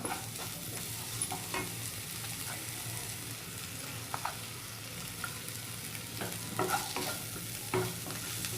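Crushed ginger and garlic sautéing with fried onions in a pan for egg curry, a continuous close sizzle broken by occasional scraping and stirring clicks.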